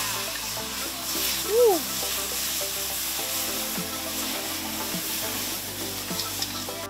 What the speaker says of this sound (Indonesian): Bumbu yang sudah direndos sama Neng Mei Zelda, mau abdi tumis ya